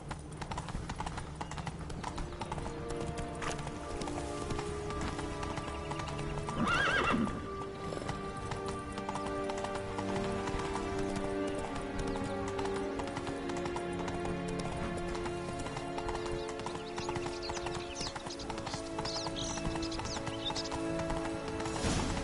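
Geralt's horse Roach trotting in The Witcher 3: Blood and Wine, a steady rhythmic clip-clop of hooves running throughout, with a brief louder whinny partway through and a layer of background music and ambience underneath.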